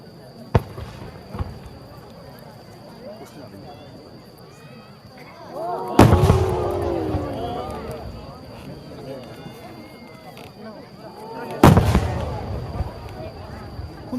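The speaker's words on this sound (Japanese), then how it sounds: "45番創造花火虹色月下美人、長野県信州煙火工業の作品です。" Creative fireworks shells at the Tsuchiura national fireworks competition, a display by Shinshu Enka Kogyo of Nagano, go off in two sharp booming bursts with crackling tails, each followed by a lingering rumble, while a crowd murmurs and talks throughout.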